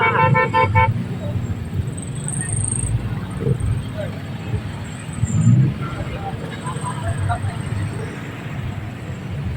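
Heavy street traffic with a short burst of rapid car horn toots at the start, followed by a continuous low road rumble and passing vehicles, with voices talking faintly in the background.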